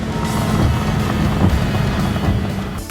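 Continuous roaring engine of a rally car accelerating down a final straight in Gran Turismo 7, loud and dense with a broad, rushing, wind-like quality throughout.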